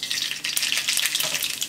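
Mustard seeds crackle and sizzle loudly in hot oil, a dense continuous spitting hiss with small pops, close up and with no talking.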